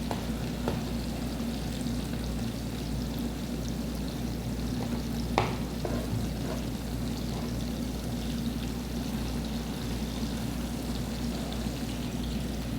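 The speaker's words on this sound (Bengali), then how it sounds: "একবারে কড়া করে ভাজা যাইব না, একটু হালকা ভাজ দিব, কারণ এই মাছ বেশি কড়া হয়ে ভাজা যাইব না।" Gulsha fish frying lightly in oil, a steady low sizzle holding evenly throughout with a few faint clinks and one brief sharper tap midway, no voices.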